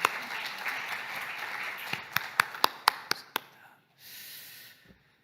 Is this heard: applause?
yes